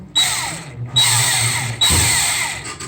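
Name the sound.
power drill drilling out Ford 6.7 EGR bolts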